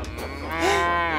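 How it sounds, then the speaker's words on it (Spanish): A single drawn-out cartoon cow moo, loud and close, rising slightly in pitch toward the end over a steady low hum. "Eso sonó como una vaca."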